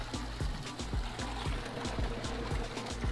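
Water flows out of a spring at Rogers Springs in Nevada, a quiet steady trickling burble with soft rhythmic splashes, heard up close and alone.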